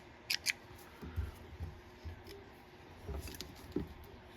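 Scissors trimming the rubber legs on a soft hackle crab fly, a series of quiet, close snips: a quick double cut, then several spaced single clips.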